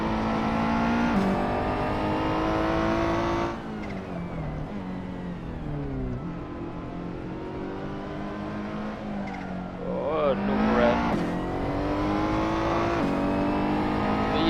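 A GT3 race car engine in a racing video game roars continuously at high revs, dipping and climbing through gear changes, with occasional tire squeal under a steady, loud drone.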